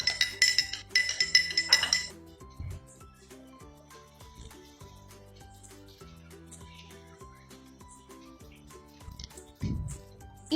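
Dish soap being mixed in a 200 ml glass in a school science experiment, with bright repeated clinks and light tapping, a louder stirring burst at the start and another near the end.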